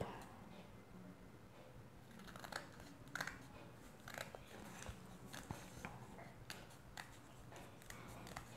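Scissors snip through folded paper while cutting out hand shapes for a paper snowman craft, a series of short crisp cuts close by over quiet room background.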